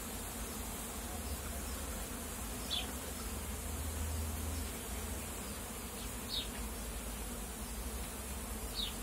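A steady, continuous hum of many honeybees buzzing close by, droning without pause, with a few brief louder buzzes as single bees pass near.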